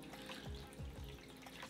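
Water poured into a baking dish of butternut squash in a home kitchen, a faint, steady trickle and splash with low gurgles, continuous and close.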